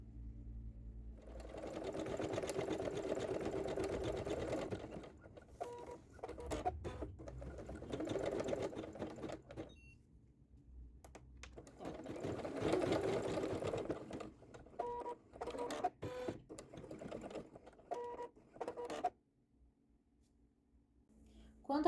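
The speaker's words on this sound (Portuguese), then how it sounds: "E aqui a máquina está na última cor, ó, que é 4 de 4, tá? Está bordando ali a última cor aqui do nosso bordado" An Ambition 640 embroidery and sewing machine stitches the last color of an embroidery design. Its rapid mechanical whirring comes in repeated bursts separated by brief pauses, and someone talks over it.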